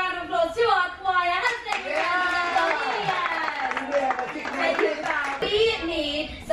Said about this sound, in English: let's give a round of applause to our choir.